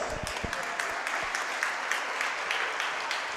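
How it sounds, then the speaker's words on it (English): Basketball fans in a school gym applaud staff members, giving a steady, dense round of applause that carries at moderate level throughout, with a faint voice underneath. "Fans, please join us in giving them a well-deserved round of applause."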